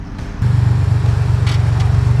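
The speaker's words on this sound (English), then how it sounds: "That sounds like a race car." A turbocharged car engine at a Buick car meet rumbles loudly nearby, kicking in abruptly and holding a throaty idle with faint whooshing bursts.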